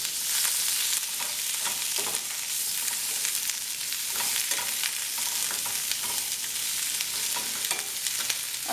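Vegetables for a vegan pizza arrabbiata stir fry sauté in a pan, giving a steady, dense sizzle with faint stirring scrapes throughout, close and continuous with no voices.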